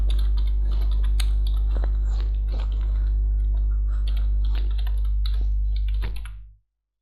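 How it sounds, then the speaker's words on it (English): Someone types on a computer keyboard, a quick run of light, uneven key clicks over a steady low hum, close by, continuing for several seconds before everything cuts off. "Here we type our email."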